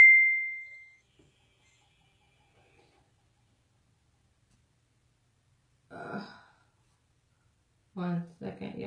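A phone text-message alert sounds as a single clear, sustained chime at the start. Near-silence follows, then brief bursts of nearby talk.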